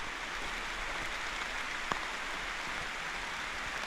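Steady light rain patters on a mountain trail near a fire tower, a soft, even hiss of drops with one sharper tap partway through and no voices.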